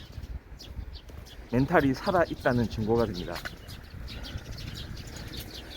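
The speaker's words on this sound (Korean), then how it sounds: "새들이 지저귀는 소리, 막 짹짹짹짹 간드러지게." Faint songbirds chirping and twittering in late autumn, thin and distant beneath someone talking steadily in Korean.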